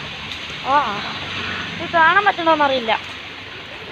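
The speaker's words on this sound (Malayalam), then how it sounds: "നല്ല മഴയാണ്." Heavy rain falls outside a home in Kerala during a flood season, a steady broad hiss throughout while someone talks over it.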